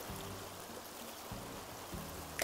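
Water flows steadily in the video game Animal Crossing, a soft continuous stream heard alone at an even level, with a sharper sound right at the end.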